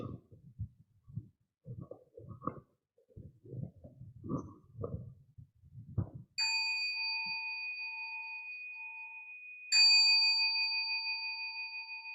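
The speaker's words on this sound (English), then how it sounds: "We can have a bell." A meditation bell struck to open a Zen Buddhist Dharma talk rings out twice after quiet murmuring, each strike leaving a clear, sustained ringing tone that slowly decays.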